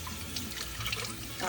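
Tap water running into a kitchen sink while a bag of sauerkraut is rinsed of its sour liquid, a steady hiss and splash that swells briefly near the end.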